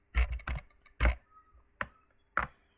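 A computer keyboard being typed on, a few sharp, close clacks in an uneven rhythm with short pauses, loud against a quiet room.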